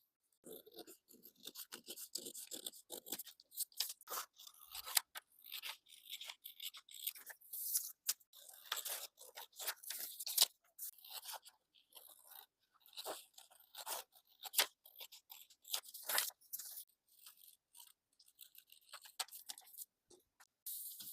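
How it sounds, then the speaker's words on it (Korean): Scissors cut around the outline of a paper skirt pattern, giving soft, crisp snips and crunches in irregular bursts with brief pauses, quiet and close, with no talking. "이제 남아있는 전체적인 외곽선을 가위로 잘 잘라줍니다."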